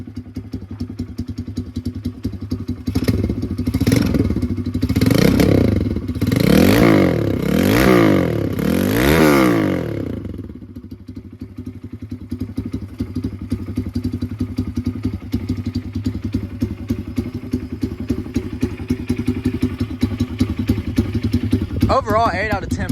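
A Tao Tao DBX1 140cc dirt bike engine revs up in several rising and falling blips, loud and close, then settles back into a rough, steady, putting idle.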